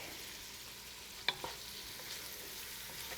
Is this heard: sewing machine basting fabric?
no